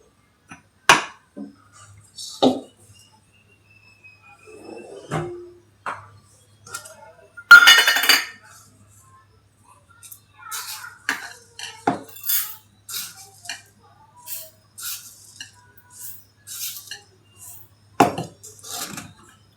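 Pot of milk set on a gas stove for makhana kheer, with scattered clinks and clatters of metal utensils and cookware, close and intermittent with quiet gaps between.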